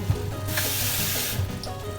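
Water poured into a cooking pot while making sarciadong isda, a steady close rush of running, splashing water with faint kitchen clatter underneath.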